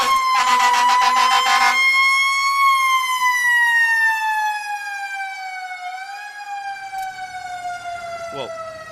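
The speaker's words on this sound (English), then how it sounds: "they definitely win for the loudest fire trucks" A loud fire truck siren wails steadily at a Christmas parade in Charleston, West Virginia, its pitch sliding slowly downward over several seconds, with a rapid pulsing burst at the start and a brief horn-like blip near the end.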